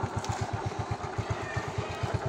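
A Yamaha Mio i 125 scooter idles with its exhaust popping in a fast, even, throbbing pulse close by, steady and unbroken throughout with no talk.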